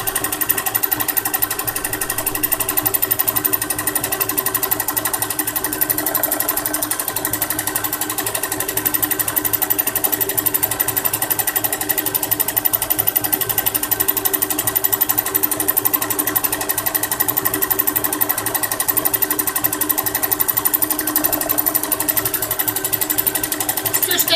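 A sewing machine runs steadily throughout, a dense continuous mechanical whir with rapid stitching rhythm, fairly loud and close.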